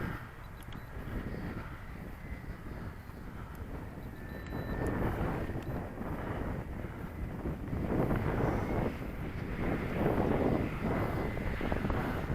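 FlyZone Cessna Corvalis 350 scale RC model plane, 1400mm wingspan, gliding in to land with flaps and almost no power: a steady, fairly faint airy whoosh with outdoor wind buffeting, swelling slightly toward the end.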